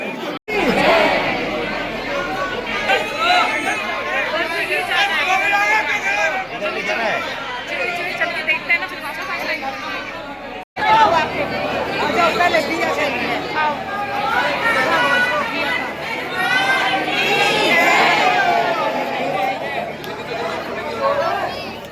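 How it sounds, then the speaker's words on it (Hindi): Crowd chatter inside the Radha Raman temple in Vrindavan: a dense, steady babble of many voices close around, unbroken except for one brief cut midway. "तो ये राधा रमण मंदिर है, देखिए अभी यहाँ भीड़ लगी है।"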